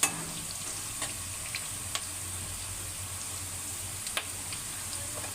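Sago pearls sauté in a pan with a steady, soft sizzle, broken by occasional light clicks of a stirring spoon against the pan.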